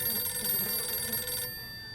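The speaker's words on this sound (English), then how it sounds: "Was that a telephone ringing?" A telephone ringing in the video game 60 Seconds Reatomized, a steady electronic bell tone that holds for over a second and then cuts off, leaving a faint ringing tail.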